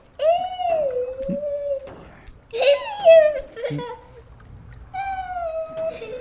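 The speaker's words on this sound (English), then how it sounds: "Maybe you could figure out what's Tomo meowing about so much" A cat meows indoors in several drawn-out, rising and falling calls, fairly close and loud, with pauses between them and some faint background noise.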